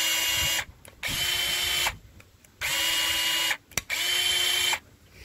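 A cordless rechargeable pruner with an extension pole whirs its motor in three loud, even bursts, each about a second long, separated by short quiet gaps with faint clicks.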